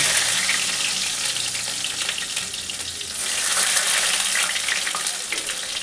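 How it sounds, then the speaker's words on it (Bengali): Garlic frying in a pan for lentil dal, a steady dense sizzle with faint stirring scrapes, close and fairly loud throughout with no voices. "রসুনটাকে ভালো করে ভেজে নিয়ে আগে তারপরে পেঁয়াজটা দেবো"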